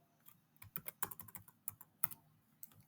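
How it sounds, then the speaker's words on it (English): Typing on a computer keyboard, a quick irregular run of close, crisp key clicks with short pauses between bursts, heard alone. "So let's type in here script."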